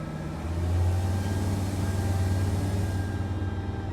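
Freightliner truck engine with a turbo leak, idling loudly up close with a steady low rumble that surges slightly, a faint hiss of escaping air riding on top, no voices.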